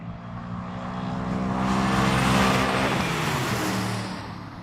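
Ford Mustangs in a drag race roar past as one loud engine note that swells to a peak midway, then fades away, with no voices.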